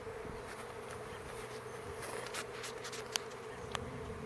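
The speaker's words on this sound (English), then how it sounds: "You can see there's a lot of bees starting to converge on stuff" A honeybee swarm converges on a catch box outdoors, a steady dense buzzing of many bees filling the air with a few individual insects zipping close past.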